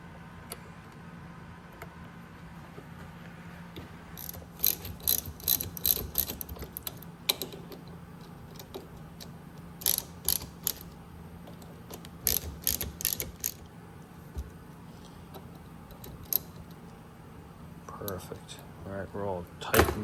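A ratchet clicking in short bursts while fasteners are tightened on a Honda S2000 drive shaft during a rebuild, close and crisp, with pauses between runs and a steady low background hum underneath.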